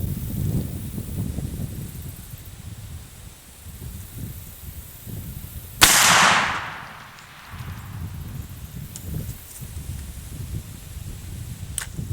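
A single muzzleloader rifle shot fired at a target, a sharp loud blast with a brief decaying tail, standing out midway through quiet outdoor background.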